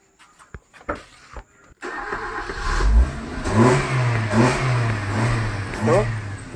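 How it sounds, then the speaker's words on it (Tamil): A Maruti car with a freshly replaced battery and a suspected ECM fault: a few short cranking clicks, then the engine catches and runs, revving up and down steadily and fairly loud for several seconds. "இப்போ வண்டியை ஸ்டார்ட் பண்ணி பார்த்துடலாம்."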